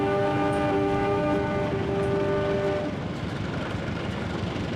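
A Matarmaja passenger train in the Trainz Simulator video game sounds a long, steady horn over its rolling rumble, then keeps running with only the low rail noise.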